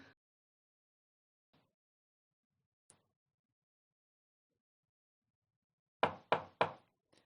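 Knocking on a door in a Turkish audio drama: a few faint isolated taps, then three loud, sharp knocks in quick succession near the end, with near silence between.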